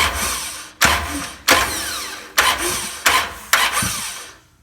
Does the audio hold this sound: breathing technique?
no